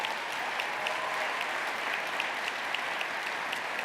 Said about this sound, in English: let's give Matt a round of applause